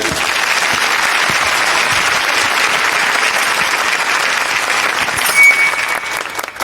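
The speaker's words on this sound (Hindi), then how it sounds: "तालियां।" An audience at a poetry recital claps loudly and steadily in a continuous wash of applause, with a few crowd noises toward the end as it begins to thin.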